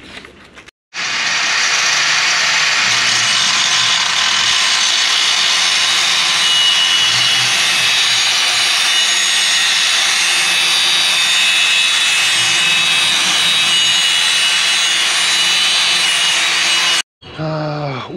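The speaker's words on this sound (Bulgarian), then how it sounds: "В момента пробиваме дупката, където да мине камъка за да хванем за болта на колелото." A power drill whines continuously for about sixteen seconds, loud and close, grinding steadily through a fishing boat's mount before stopping abruptly.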